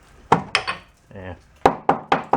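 A hammer taps on the rusty, corroded frame of a VW hippie bus, giving sharp metallic knocks: a couple of strikes, a short scraping pause, then four evenly spaced close-up hits.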